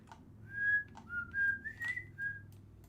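A person whistles a short wavering melody of several sustained and sliding notes, close and clear over a low background hum, with no talking.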